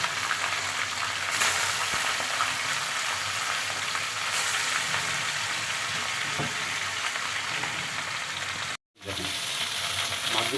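Sea poa fish fry in hot, smoking oil in a wok, a loud, dense sizzle that runs steadily, with a few stir knocks and a brief cut near the end.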